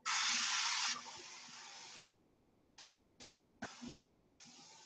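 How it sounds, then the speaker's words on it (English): An aerosol spray coats a springform angel food cake pan, starting with one long loud hiss of about two seconds, then several short bursts, close in a quiet kitchen. "Spray that real generously"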